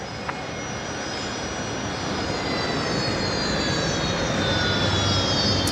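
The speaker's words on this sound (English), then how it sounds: "Jetstar 635 is that 320neo. It's heading off to Avalon tonight down in Melbourne." A Jetstar Airbus A320neo jet departing Brisbane Airport at night, its engine roar a broad steady rumble with a thin high whine that swells gradually louder, heard alone.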